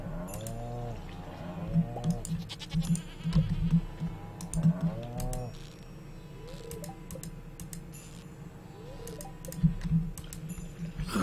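Goats bleating in the video game Stardew Valley, several wavering game bleats in the first half, then quieter farm ambience with clicking key-like taps and another short bleat near the end.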